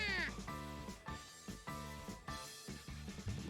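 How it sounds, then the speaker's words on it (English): A black cat in a Japanese visual novel game gives a few short, close meows over soft background music, with no talk. "Lured by the sound of our voices, the black cat pops out of nowhere."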